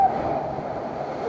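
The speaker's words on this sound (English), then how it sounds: "Oh, there's a waterfall." On the Tonnerre 2 Zeus rapids ride at Parc Asterix, a waterfall splashes down as a continuous, fairly loud wash of rushing water, heard alone without speech.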